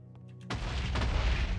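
A TNT blast in a block-building video game bursts in suddenly after a brief quiet moment, a loud close boom with a rumbling tail that keeps roaring under crackling debris.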